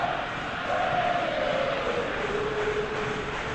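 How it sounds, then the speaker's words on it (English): Stadium crowd in the PES football game before a Barcelona vs Frankfurt Champions League match, a steady broad roar of many voices with a faint drawn-out chant rising through it, continuous and fairly loud. "There is still movement in the crowd, plenty of people yet to take their seats."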